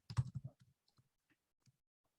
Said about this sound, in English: I'm just going to type something in.